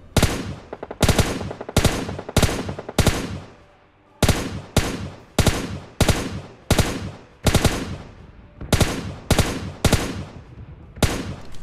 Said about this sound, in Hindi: अपार्टमेंट की तरफ से गन शॉट्स की आवाज आ रही है तुम्हें